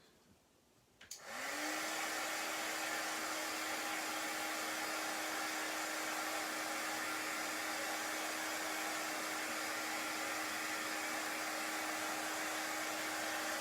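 A hair dryer drying chalk paste on a craft project clicks on and then runs at a steady, loud, even whir for over ten seconds with no talking.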